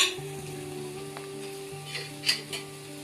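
Cinnamon, star anise, stone flower, mace and green chili frying in hot oil for an egg green masala make a soft, constant sizzle beneath a low steady hum, with a couple of light utensil clinks near the end.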